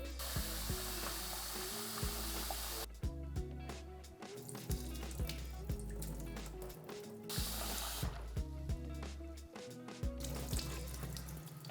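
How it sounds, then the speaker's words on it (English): Rice being rinsed by hand in a bowl of water under a running kitchen tap, a steady close rush of water with repeated swishing and sloshing strokes, no voices. "wash 1 cup of rice thoroughly for 2 times"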